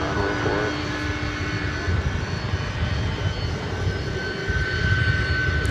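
A UPS airplane taking off down runway 17 right at DFW Airport, a steady broadband engine roar with a faint whine, sustained and building slightly, heard from a distance.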